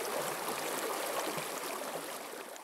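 A flowing stream near Tincup rushes and burbles in a steady, broad wash of water noise, close and continuous, with no voices.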